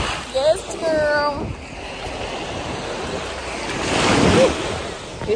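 Ocean waves wash onto a beach under steady wind noise on the microphone, the surf building to a louder rush midway, with bright voices calling out near the start.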